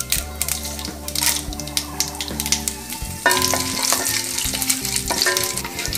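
Mustard seeds, cumin and dried red chillies sizzling and popping in hot oil, a dense crackle that grows louder and busier midway, with scattered clicks from seeds bursting, heard up close with no voices.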